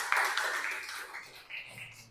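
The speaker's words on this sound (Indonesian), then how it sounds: "Kasih tepuk tangan untuk kelompok 1 ya." A classroom breaks into brief, soft applause for the first student group after its presentation, a thin wash of clapping that fades over about two seconds.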